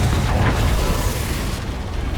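A Confringo fire spell explodes in the game Hogwarts Legacy: a dense, loud, roaring blast that holds steady for about two seconds without a break.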